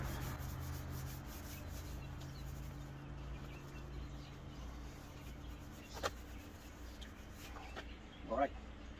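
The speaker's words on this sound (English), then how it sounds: "Use a scrubby side on the rusty area here." A scrubby pad rubs over the rusty body of a 1972 Ford F100 pickup during a wash, a soft continuous scraping close by under a low hum, with faint birdsong in the background.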